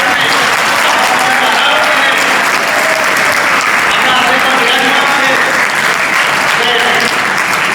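Loud, dense applause fills a gurukul prayer-hall inauguration to honour a guru present, sustained clapping from a large crowd throughout while a voice speaks over it.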